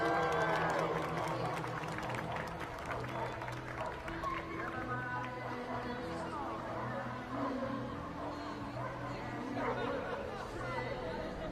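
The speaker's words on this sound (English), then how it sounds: "Everybody cheer, make some noise." Crowd at a jumping competition reacting after a jump, a steady murmur of chatter and scattered cheering heard from a distance, with some clapping and voices throughout, fairly faint overall.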